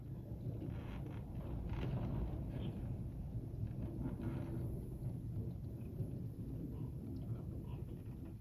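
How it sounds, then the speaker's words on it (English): A very heavy December downpour falls outside a house, a dense, steady hiss of rain with low rumbling underneath, heard from indoors at a moderate level throughout. "It's like a deluge out there."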